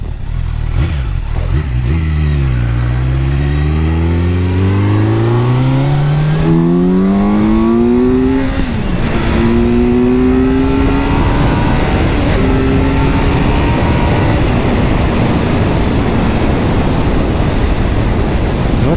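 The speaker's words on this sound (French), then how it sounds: "Que le moteur il pousse quand même," Kawasaki Z900 2023 motorcycle engine pulling hard through several rising gears, each climb in pitch broken by a short dip at the shift, loud and close before settling into rushing wind noise.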